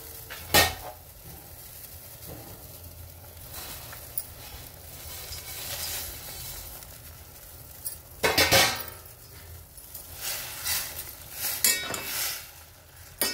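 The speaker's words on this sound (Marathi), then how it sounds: "पाण्याला उकळी आलेली, आपण आता कुरड्याचा भुगा आहे का तो टाकू।" Kurdai crumbs are tipped into boiling water in a pot and stirred, giving scattered clinks and scraping of utensil on metal over a low background, with a few sharper knocks near the start and end.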